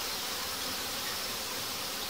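Honey bees from a queenless swarm buzzing steadily at the hive, a dense, even hum that stays constant throughout with no other sounds.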